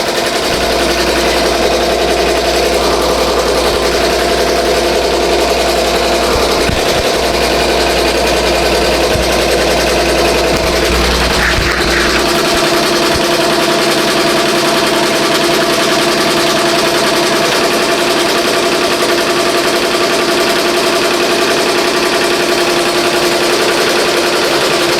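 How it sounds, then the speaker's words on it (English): A BAI Mirror 1501 embroidery machine stitches a seashell design onto a hooped T-shirt, producing a loud, continuous, rapid mechanical hum and clatter with a low drone that drops away midway. "now it's stitching the seashell part of the design"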